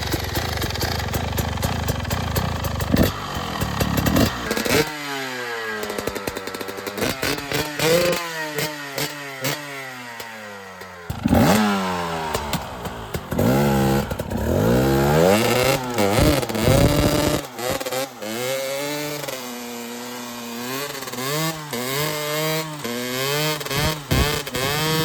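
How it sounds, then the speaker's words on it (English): A carbureted 300cc two-stroke supermoto engine revs hard and repeatedly, with rising and falling blips and sustained high-pitched buzzing wails, loud and close for the whole stretch with no talking. "we're gonna do a quick sound check on the carbureted 2-stroke 300"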